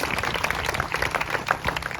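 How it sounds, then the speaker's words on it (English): Audience applause at an elementary school Blue Ribbon award ceremony, a steady dense wash of clapping from a crowd lasting the full two seconds at moderate level. "let's give a round of applause for Rick"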